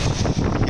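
Strong wind buffets a harbour quay where a ship bound for Kalimantan is departing, a loud, continuous rumbling wind noise close to the microphone with no voices.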